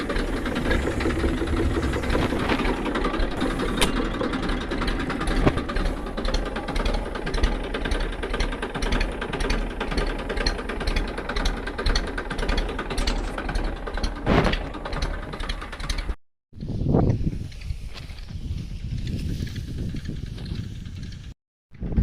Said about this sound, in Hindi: अपने ट्रैक्टर को फिर से रास्ते के पास लाकर खड़ा कर दिया है